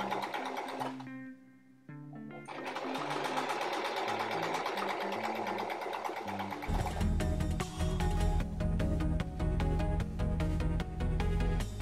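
A sewing machine stitches fabric for an embroidered baby bib, running in a steady close mechanical whir that gets louder and more rattling toward the end, with no voices.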